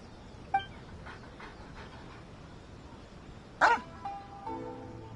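A dog in the video game Genshin Impact gives a few short barks and yips, spaced out over quiet ambient game sound, with a sharper burst near the end.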